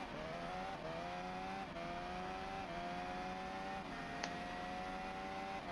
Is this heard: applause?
no